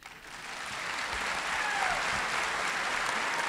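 A commencement ceremony audience breaks into applause, the clapping building quickly over the first second and then holding as a steady, full roar of many hands.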